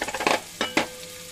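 Garlic tossed into hot oil for a seafood cioppino gives a short sizzle, with a few clinks of a utensil against the pan, close and fairly quiet.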